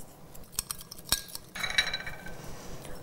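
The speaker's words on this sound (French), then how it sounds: "On mélange le tout, on verse le tout sur notre salade." A utensil stirs a vinaigrette with salt and pepper in a bowl for a fattoush salad, making sharp clinks and scraping taps against the dish, with quicker rattling stirs in the second half and no voices.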